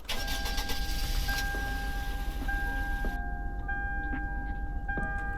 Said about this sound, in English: Here's the startup.